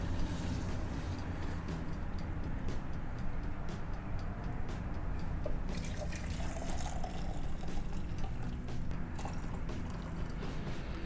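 Hot water pours steadily into a cup over ginger syrup, ginger, yuzu and cane sugar to make a ginger drink, a soft continuous filling splash lasting about eleven seconds at low level.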